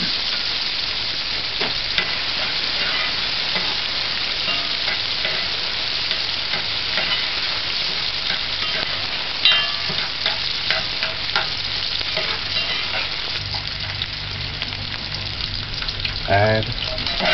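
Onion and garlic fry in a pan on a stovetop set to medium heat, a steady loud sizzle running throughout with occasional scrapes and stirring clatter, a brief voice near the end.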